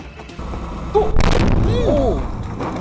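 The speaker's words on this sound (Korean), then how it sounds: "무사히 지나진 줄 알았던 목욕탕에서 또다시 폭발이 일어났습니다." A second explosion erupts at a bathhouse fire scene after the initial blaze was put out, a loud broadband boom with rumbling aftermath over a noisy outdoor background.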